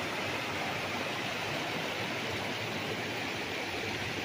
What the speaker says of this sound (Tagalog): Masarap ng yung tunog ng tubig na umaagos eh.